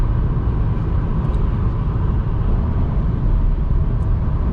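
Broadband low rumble of tires on rough asphalt fills the cabin of a 2022 Citroen C3 Aircross with a 1.2 PureTech 110 HP engine, driving at night, steady and continuous with no talk.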